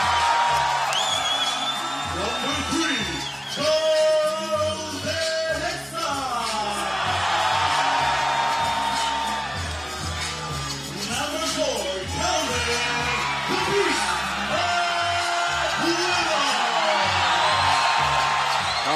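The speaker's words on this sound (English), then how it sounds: "the Filipino spectators in the crowd are making their presence felt" Filipino fans in an arena crowd whoop, yell and cheer at a FIBA 3x3 World Tour basketball event in Abu Dhabi, a loud continuous roar with shrill whistles and shouts over booming music and an announcer's voice.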